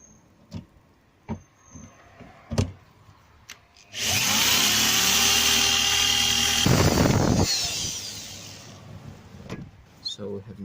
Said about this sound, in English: So now we need the drill. I can make a hole that side.